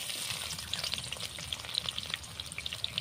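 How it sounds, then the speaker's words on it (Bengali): Chopped onion frying in hot mustard oil in a wok, a steady close sizzle with crackling spits and pops throughout, alone with no voices. "তেলটা গরম হয়ে গেছে। ওর মধ্যে দিয়ে দিচ্ছি পেঁয়াজ কোচানো"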